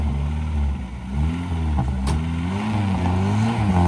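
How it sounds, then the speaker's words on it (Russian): An off-road rally car engine idles with a deep, throaty rumble at night, its pitch rising and falling slightly as it revs, close by. "вы слышите, какой дорогой звук у Нургали на машине"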